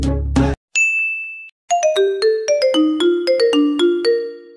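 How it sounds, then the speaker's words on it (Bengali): A mobile phone ringtone plays close and clear: a short burst, a sustained electronic tone, then a quick melodic run of bright chiming notes repeating in rhythm. "এই অসময় এই সুরা কেন ফোন করলো?"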